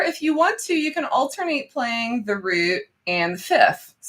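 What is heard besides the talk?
No distinct noise like a dog, phone or traffic.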